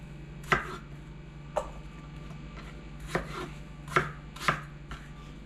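A knife chops apples into one-inch cubes on a cutting board, five separate crisp thunks spaced irregularly over a quiet kitchen background, close and clear with no talking.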